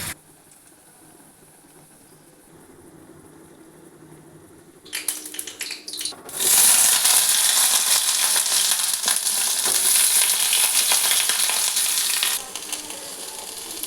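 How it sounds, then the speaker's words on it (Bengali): Red lentil fritters hit hot oil and burst into a loud, close, bright sizzle after a quieter stretch of small clatter, then keep frying steadily before easing off near the end, with no voices. "দেখুন আমি বড়াগুলো ভেজে নিচ্ছি আগে"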